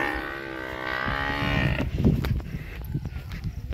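A bull bellows loudly in a long, drawn-out low moo, followed by shuffling and clattering noises nearby.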